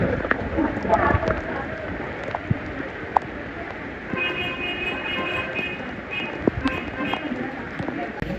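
Rain patters steadily in the background at a temple in Rameshwaram, with scattered sharper drips and taps, while people talk nearby.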